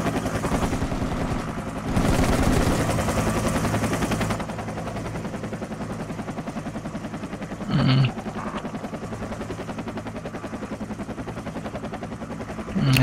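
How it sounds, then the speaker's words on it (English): A helicopter flies low overhead in the military shooter Project Reality, a loud, continuous rapid chop of rotor blades that swells and eases, broken by a short burst of gunfire. "Chopper's flying low, over Cell City right now."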